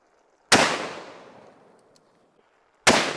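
Two loud, close gunshots from a .500 Magnum revolver, each a sharp blast with a long, fading echo, a couple of seconds apart.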